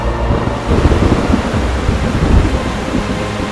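A sudden thunderstorm in an animated 3D folk-tale film brings loud, dense heavy rain with low rumbling thunder, a steady roaring wash with no voices.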